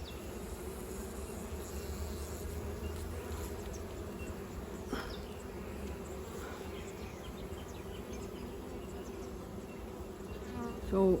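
Honey bees buzzing around an open, brood-heavy beehive, a dense, steady drone of many insects close by, continuous and even for the whole stretch with no talking.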